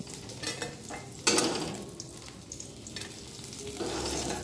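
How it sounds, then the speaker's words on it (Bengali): Bitter gourd pieces fry in oil in a pan, a close, continuous sizzle with a sharp burst of crackle partway through as the slices are stirred. "করলাগুলো দেখো আমার ভাজা হয়ে গেছে লাল লাল করে"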